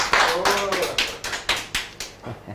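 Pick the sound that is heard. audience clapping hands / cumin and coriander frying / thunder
audience clapping hands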